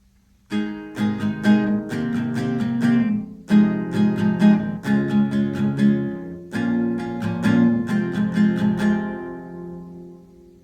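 Acoustic guitar strumming a progression of chorus chords, steady and close, with several distinct strummed bursts and a ringing final chord that fades out.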